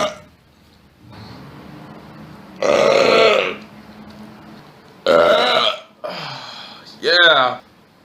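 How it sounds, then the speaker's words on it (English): Several loud, close burps by a man, long and guttural with one rising croak at the end, separated by short pauses and quieter voice sounds. "that was a violent burp"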